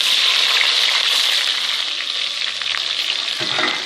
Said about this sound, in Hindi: अब ऑयल हमारा गर्म हो गया, इसमें ऐड करेंगे प्याज